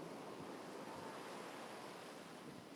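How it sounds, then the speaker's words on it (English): Ocean surf washing gently along a Florida shore, a soft continuous wash with light wind noise, faint and steady with no talk. "And to have the water lapping at my feet."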